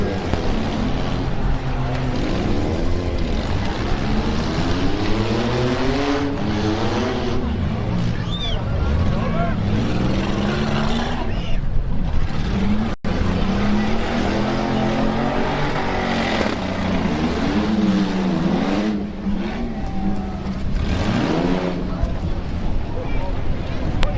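Demo derby cars race through an autocross heat at a county fair track, engines revving and rising and falling in pitch as they pass, with wind buffeting the microphone and an announcer talking over the action.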